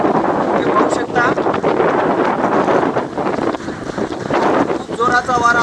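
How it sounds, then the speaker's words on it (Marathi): Fierce stormy wind gusts in Ardhapur during a thunderstorm, loud, steady roaring and buffeting close against the microphone, with a person talking under the noise. "आपण अंदाजही लावू शकत नाही की किती जोराचा वारा आहे ते पाहू शकता।"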